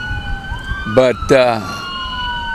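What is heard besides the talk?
siren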